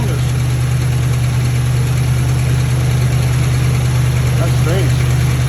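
A Lincoln Town Car engine idles on seven cylinders after a spark plug wire is reconnected, a steady loud low rumble running throughout with a faint higher chirp near the end and voices over it.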